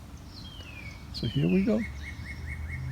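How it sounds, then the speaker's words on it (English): Birds chirp outdoors in a high thin whistle and a repeating pulsed call, fairly faint beneath a nearby voice while homemade Greek cherry liqueur is being prepared. "I don't know if you can hear the birds chirping away"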